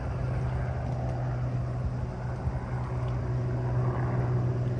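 A helicopter flies overhead near Great Keppel Island, a steady droning engine hum with a low whir, constant and moderately distant, with wind and outdoor noise around it and no talking.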